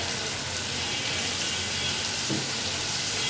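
Potato and eggplant pieces fry in a pan with a steady, soft broadband sizzle that holds at an even level throughout, with a faint stir or scrape midway and no talking.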